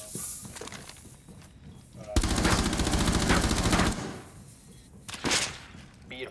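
A full magazine emptied in Rainbow Six Siege gives a sustained, loud burst of rapid gunfire lasting about two seconds, framed by quieter game noise, footsteps and talking.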